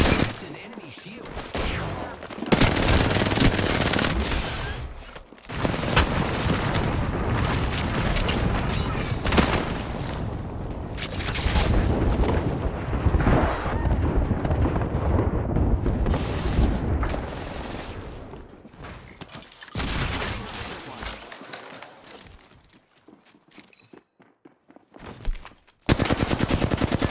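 Enemy gunfire in a shooter video game, with sustained dense bursts of automatic fire and rapid shots filling most of the stretch, loud and continuous with brief pauses near the end.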